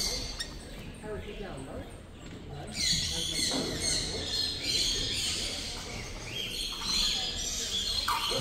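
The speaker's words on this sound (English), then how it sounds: "Some different birds in there." Assorted caged birds, including parrots and Alexandrines, chirp and call at an indoor bird expo before opening, a busy mix of calls under murmuring voices and room noise.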